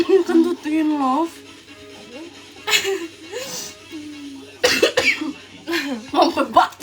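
Several coughs, close and moderately loud, break out between stretches of a voice talking and laughing indoors.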